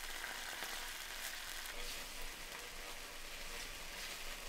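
Ginger, lemongrass paste, finely chopped red chilli and fish sauce frying in a pan for chicken laksa, a soft, steady crackling sizzle throughout, fairly faint and alone.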